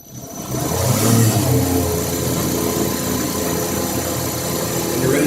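A 2x72 belt grinder fitted with small wheels runs steadily in a workshop, a loud continuous motor whir and belt hum spinning up within the first half second and holding constant throughout with no talking.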